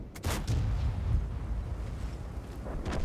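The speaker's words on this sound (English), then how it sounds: "Well, he's using the big gun." A tank's big main gun fires in the World of Tanks video game, a deep, heavy boom near the start that rolls and rumbles away, followed by a lower second thud near the end, no talk.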